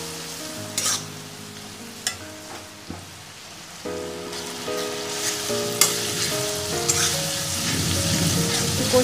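Ginger and garlic paste being sautéed in a pan for a Bengali prawn malai curry, with a soft crackling sizzle and occasional stirring knocks under steady background music.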